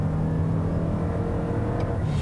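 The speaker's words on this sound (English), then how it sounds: "you hear that buzziness and that noisiness of that 4-cylinder" Four-cylinder engine of a 2021 Toyota RAV4 Prime XSE droning steadily from inside the cabin while driving, a continuous low buzzy hum with no talk over it.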